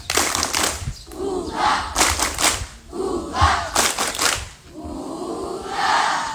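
Junior high school students at a morning exercise assembly perform a rhythmic group spirit clap, sharp unison clap bursts alternating with loud chanted shouts in several close, energetic rounds.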